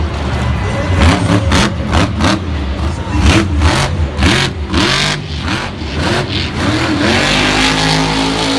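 Grave Digger monster truck at a Monster Jam arena event in Tampa, its engine roaring and revving hard in rapid repeated bursts while spinning a donut, loud and close with the sound continuing the whole time.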